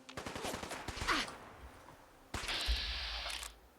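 Rapid gunfire from Gunner raiders in Fallout 4, a fast volley of sharp shots followed after a short pause by a second sustained burst with mechanical clatter, heard at moderate distance without talk.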